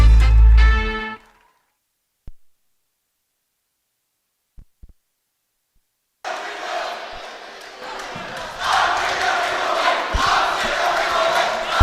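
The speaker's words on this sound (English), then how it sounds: "They're getting loud, and they are cheering on their Jordan Falcons here in Durham" Crowd at a high school varsity basketball state championship game in Durham, heard as a short burst at the start, near silence with a few faint knocks, then a loud, sustained roar of cheering through the second half.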